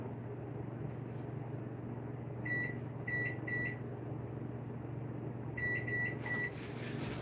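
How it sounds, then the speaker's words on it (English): A microwave oven hums steadily and low while short clusters of bright electronic beeps sound twice, close by and clear. "Putting something in the microwave."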